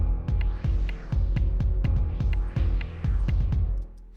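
Hybrid mallets in Kontakt, pitched down an octave, strike a steady run of deep, booming notes under a slow filter sweep that swells and recedes, ending on a fading hum.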